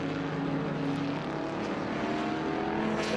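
An Alfa Romeo race car engine drones steadily with a rising and falling pitch as it passes at a moderate distance during a vintage race at Watkins Glen, with no talking.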